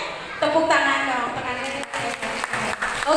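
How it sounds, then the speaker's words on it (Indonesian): Clapping from a school audience of teachers and children at a storytelling event in Aceh Tamiang, a dense, steady patter lasting a few seconds, with some voices mixed in. "Tepuk tangan dong."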